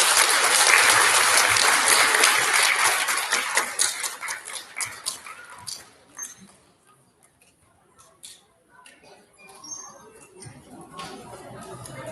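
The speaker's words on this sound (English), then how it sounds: "Big round of applause for our STEM nominations." Loud, dense applause from an elementary school audience at a student recognition ceremony for STEM nominees, sustained for several seconds before breaking into scattered claps and fading to quiet murmurs.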